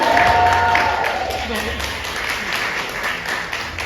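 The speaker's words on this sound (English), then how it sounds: "Let's give them a round of applause" An audience at a microlocs influencer conference applauds panelists called up to the stage, a steady wash of clapping lasting a few seconds with a faint voice under it.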